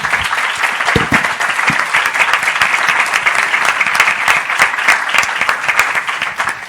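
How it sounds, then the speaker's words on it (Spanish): Sustained audience applause fills a panel discussion on Mexico's water crisis, dense and steady from start to finish with no voice on top. "Un aplauso, ¿no?"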